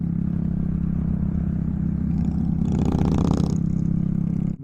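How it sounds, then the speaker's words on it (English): A Harley-Davidson motorcycle passes a slow-moving small bike, its deep rumbling engine swelling louder as it draws alongside and then easing off, with steady wind and road noise underneath and no talk. "Gotta love the sound of them Harleys."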